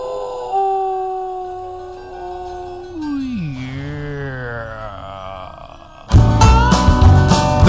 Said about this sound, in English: The most famous howl in radio.